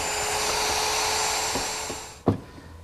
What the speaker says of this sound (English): Push the pin in, slide the jig back in place, and route some more holes.